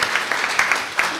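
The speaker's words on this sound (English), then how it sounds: "Round of applause for Cindy and Dean Mellities" Brief applause from an audience at a college spring symposium, a short burst of many hands clapping with a few sharper claps standing out.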